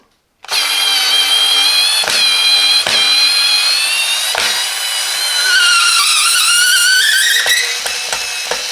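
A Parkside 4V cordless screwdriver runs loud and close for several seconds while removing screws. Its motor whines steadily, with brief dips and slight pitch shifts as the bit bites.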